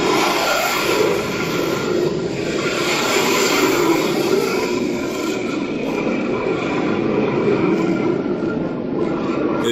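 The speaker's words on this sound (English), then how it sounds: "This Blue Angels pilot flying extremely low," A Blue Angels jet passing extremely low near a crowd at an air show, its engine a loud, steady, broadband roar sustained throughout with no talking.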